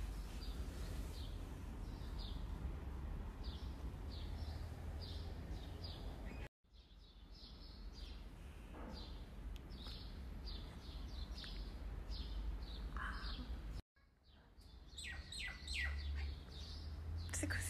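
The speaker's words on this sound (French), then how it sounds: "C'est quoi ces bruits d'oiseaux là?" Small birds chirp in quick, repeated bursts, faint and somewhat distant, against a quiet background with a couple of brief dropouts.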